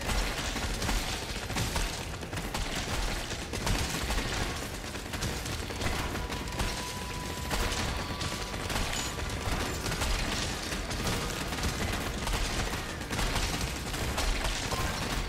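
A big gun in the video game Drill Core fires on high speed, rapid mechanical bursts and pops packed into a dense, continuous barrage that stays loud and busy the whole time, with no talking.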